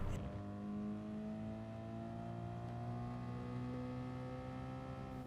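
A Subaru BRZ in Gran Turismo Sport picks up speed on the Sardegna Road Track, its engine a steady, smooth drone that climbs gradually, moderately quiet and continuous with no voices.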